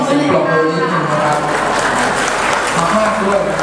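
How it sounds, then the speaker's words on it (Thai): Guests at a Thai wedding clap together, a dense, even patter of many hands, with a voice speaking over it at the start. "ปรบมือนิดนึงนะ"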